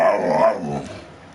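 A large dog lets out a short, loud growling bark-like vocalization up close that fades away within a second.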